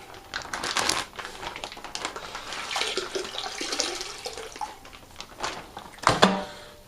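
Water splashes and patters as it is poured into a plastic fermenting bucket for a Vinoit Rosso Magnifico wine batch, coming in uneven bursts with a louder splash near the end.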